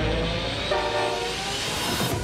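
A huge Outback road train or freight train rumbles along with a broad, loud roar and a brief horn-like tone partway through. It is steady and close.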